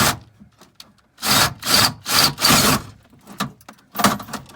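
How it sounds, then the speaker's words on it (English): A drill bores out a car door latch rod part on a 2011 Ford Crown Victoria P7B rear door. It makes several loud, close bursts of grinding whir separated by short pauses, with no talking. "see if I can just drill it and let it drop in my hand."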